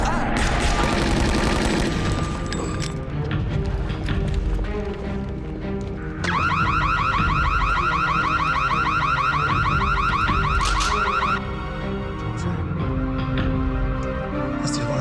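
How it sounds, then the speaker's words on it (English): A vault alarm in an action disaster film blares as a loud, steady electronic ringing over a dense, booming soundtrack, cutting in partway through and running on to near the end with no talk. "That's the alarm for the vault."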